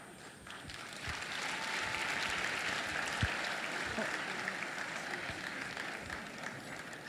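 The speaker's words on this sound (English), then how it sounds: "How about we now rise as they leave with a very big round of applause." A conference audience at an opening ceremony applauds as the guest of honor leaves the hall, a fairly faint, steady wash of clapping with some background voices mixed in.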